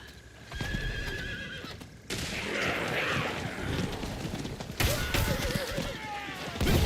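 Horse in the video game Diablo IV whinnying loudly at the start, then heavy clip-clop hoofbeats with scuffling and mechanical clatter, another whinny near the end.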